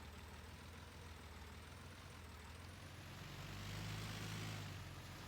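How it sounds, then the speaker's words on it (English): A tractor engine idles in the video game Farming Simulator 19, a faint, steady low rumble that grows slightly louder and rougher toward the end, with no talking. "This tractor sounds kind of sad, really."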